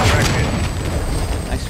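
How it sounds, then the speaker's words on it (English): A heavy boom from a bomb explosion in Call of Duty Modern Warfare II free-for-all multiplayer, loud at the start, then a rumbling tail over ongoing game noise. "Nice bomb."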